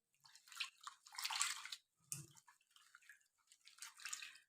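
Fresh papaya leaves are washed by hand in hot water, giving soft close splashing and sloshing in short bursts with brief drips and quiet gaps.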